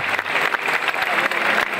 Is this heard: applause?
yes